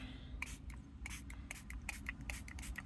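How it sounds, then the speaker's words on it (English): Several short hissing spritzes from a spray bottle misting watercolor paints, irregularly spaced, close by over a low steady background hum. "I need to spray my watercolors a little there."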